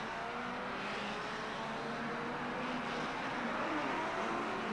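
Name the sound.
1957 Formula 1 race cars passing, German Grand Prix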